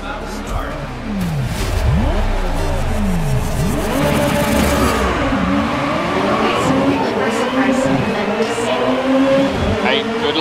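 Several race car engines rev and roar together as a race gets underway in Grid 2019, pitches sweeping up and down in overlapping loud waves that build into a sustained drone.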